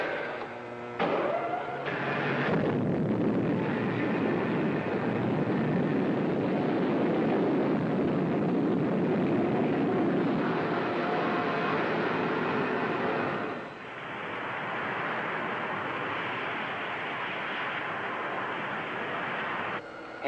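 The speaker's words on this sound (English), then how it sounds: "Okay, gang, secure for blastoff." A loud, sustained roaring rumble of a rocket launch in a 1954 science-fiction serial, steady and broadband for about twenty seconds, easing slightly partway through.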